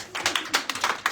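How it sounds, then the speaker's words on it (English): A church congregation claps in a quick burst of several sharp, slightly uneven hand claps, close and moderately loud. "Let's clap hands"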